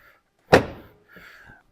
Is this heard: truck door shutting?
yes